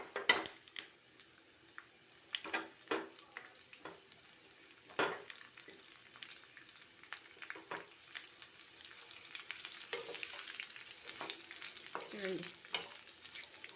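Pieces are added to a hot pan and fry with a gentle crackling sizzle, broken by scattered clinks and scrapes of a utensil. The sizzle grows fuller toward the end. Quiet and close, with no talk.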